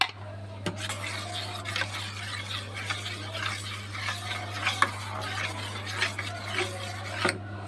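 A spoon stirs mango pulp mixed with curd and cornflour into lukewarm milk in a pot, giving soft repeated scraping and clinking strokes against the metal over a steady low hum, with no talking.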